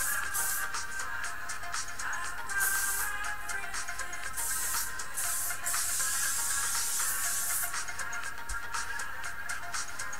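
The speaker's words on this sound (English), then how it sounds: "you just want to hairspray it at the back" Hairspray is sprayed onto the back of a head of hair in a series of short, soft hissing bursts with brief gaps between them, faint and close, with no talking.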